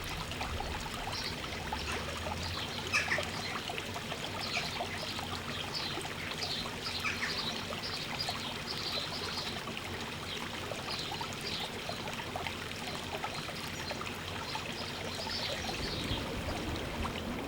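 Rainwater pouring from plastic downpipes into a stormwater drain on a housing estate, a continuous trickling splash, steady and moderately close with no voices.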